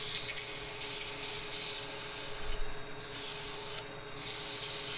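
Continuous abrasive rubbing of sandpaper against the inside of a segmented wooden vessel, steady and close, briefly easing off twice before resuming.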